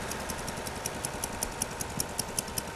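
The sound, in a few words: Oliver 1850 Special antique tractor engine idling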